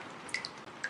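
A few faint, sparse water drips from a leaking roof plink softly at irregular moments against quiet background hiss.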